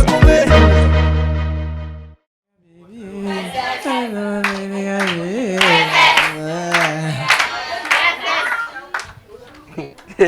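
A lively audience claps and cheers for the performer at a music show. After a sustained musical chord fades, the clapping comes loud and busy, with shouts and voices mixed in.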